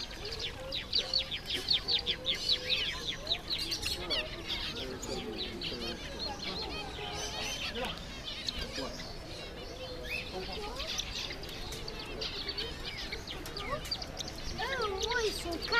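Caged birds at a poultry market in Paris give off a continuous mix of chirps, tweets and clucks of chickens and other fowl, close and busy, while people talk over them throughout.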